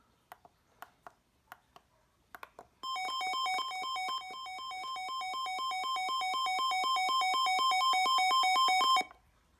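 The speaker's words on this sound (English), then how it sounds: "That is the siren for you." A Sangean CL-100 weather radio sounds its siren alert, a loud, steady electronic warble of rapidly alternating tones lasting about six seconds, preceded by a few soft clicks of button presses.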